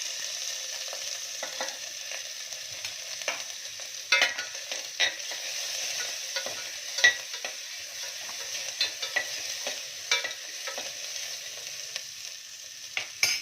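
Onion frying in a pan with mustard seeds, cumin and ginger-chili paste, a steady close sizzle broken by repeated scraping clicks as a spoon stirs it.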